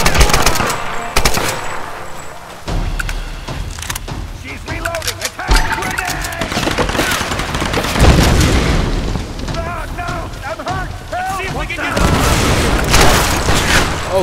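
A grenade blast and sustained gunfire from the Tomb Raider video game, loud and dense with booming impacts and rapid automatic bursts layered under shouting voices and game music throughout.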